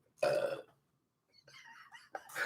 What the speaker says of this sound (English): We ended with the Barney burp.